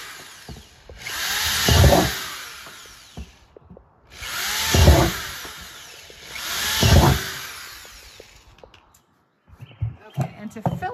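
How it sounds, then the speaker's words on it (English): A handheld power drill boring holes into the bottom of a garden planter, three loud whining bursts that rise and bite into the material, separated by quiet gaps, followed by clattering handling sounds. "I'm going to drill the holes in the bottom of the planter."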